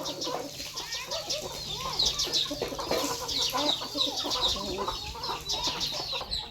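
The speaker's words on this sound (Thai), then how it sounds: "จับไก่บ่ได้" Chickens cluck and squawk loudly and continuously at close range while someone chases them to catch them, with wings flapping in bursts.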